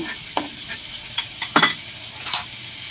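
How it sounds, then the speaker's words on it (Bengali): Prawns seasoned with salt and turmeric stir-fried in oil in a wok, a constant sizzle broken by several sharp clinks and scrapes of the spatula against the pan, close with no talking. "নাড়াচাড়া করে চিংড়ি মাছটা ভেজে নামিয়ে নিচ্ছি"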